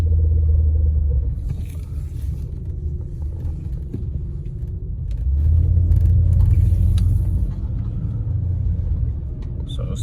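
A Honda car grinding through tight, slow turns, with a deep low rumble that swells around the middle of the clip and settles back to a steady drone, close by.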